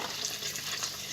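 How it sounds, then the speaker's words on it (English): Powdered paprika is stirred quickly in a hot pan, a brief, faint, soft sizzle with light rustling movement and no talk. "Don't burn it, you need to stir it fast."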